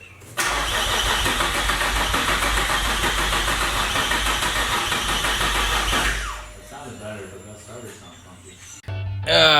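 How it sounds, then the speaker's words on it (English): An Infiniti G35's starter whirs and cranks loudly for several seconds without catching after a new BCM and ECU are fitted, then stops; quieter mechanical clicks and faint voices follow before a brief burst of noise. "The reason why the car did not start"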